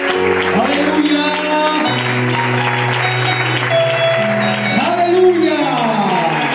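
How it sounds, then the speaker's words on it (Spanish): A church congregation claps along under sustained keyboard chords and voices, the applause blending into the music throughout. "Le damos un aplauso al Señor"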